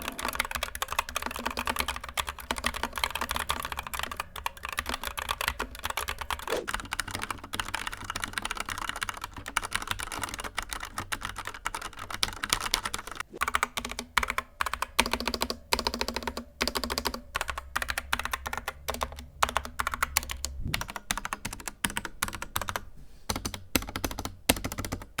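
Steady, continuous typing on a budget 60% mechanical RGB keyboard, with dense clacking keystrokes running through the whole stretch at close range and no voices.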